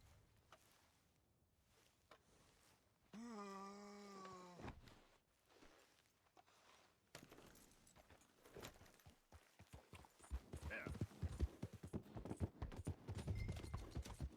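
Horse hooves clip-clop in Red Dead Redemption 2, a steady irregular patter that builds in the second half of the scene alongside other game sounds, after a brief whinny-like tonal call.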